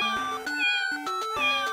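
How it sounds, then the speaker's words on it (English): A cartoon cat meows repeatedly in clear, close, tonal cries with short pauses between them and no talking. "That's a kitty cat, not a tiger!"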